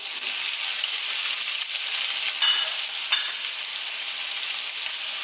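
Onions and potatoes hitting hot oil infused with seeds for saag aloo: a steady, bright, loud sizzle close by, with a couple of brief clicks midway.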